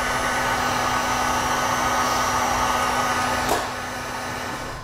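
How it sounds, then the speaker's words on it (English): Heat gun shrinking a butt connector on vehicle trailer wiring, a loud, steady blowing whoosh with a constant motor whine, close up, easing slightly near the end. "we're going to take a heat source, and we'll go ahead and shrink that buck connector down"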